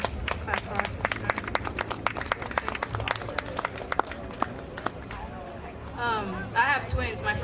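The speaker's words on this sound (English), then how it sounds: "let's clap for our sister" An audience at a Black maternity health panel applauds a speaker, with a burst of rapid, fairly light clapping that thins out, followed by voices talking near the end.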